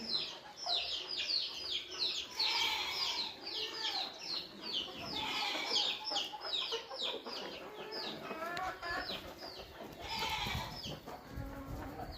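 Chickens cluck and chatter continuously at moderate distance, several birds calling over one another in a busy farmyard with no speech.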